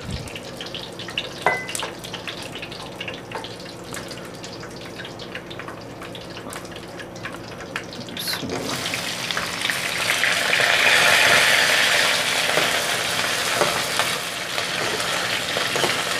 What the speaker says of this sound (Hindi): आलूओं को हमने तकरीबन 5 मिनट ऑयल में अच्छी तरह फ्राई कर लेना है